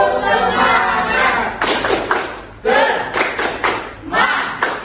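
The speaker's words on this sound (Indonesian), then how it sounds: "Tepuk semangat." A classroom of students doing a rhythmic spirit clap, with groups of sharp claps and thumps in a patterned beat, loud and close, mixed with children's voices chanting along.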